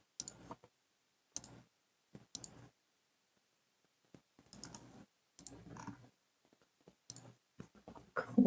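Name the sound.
computer mouse clicking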